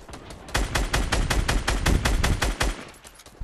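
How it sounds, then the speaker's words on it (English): Rapid bursts of automatic gunfire from a Fortnite Battle Royale match. The shots are loud, sharp and closely spaced, repeating steadily for about three seconds with no talking. "Just shooting him down for you."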